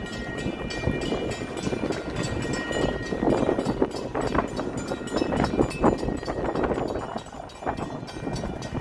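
Madison Street Bridge lifting over the Chicago River gives off a steady heavy mechanical rumble and grinding with clanks, heard outdoors amid wind and crowd noise throughout.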